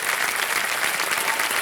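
Studio audience at a KBC Season 14 quiz show taping bursts into steady, dense applause, loud and continuous throughout with no talking over it.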